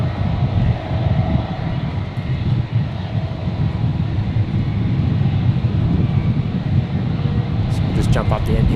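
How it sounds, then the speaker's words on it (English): United Airlines flight 97 departing Brisbane Airport, a continuous heavy low jet-engine roar that stays loud throughout, mixed with wind noise, with a brief higher clatter near the end. "So we'll just jump up the end here and get the United departure."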